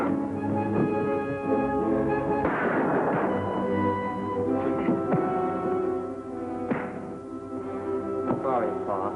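A single shotgun blast booms out amid a busy 1950s TV western soundtrack, with orchestral music playing throughout and people shouting and talking around it.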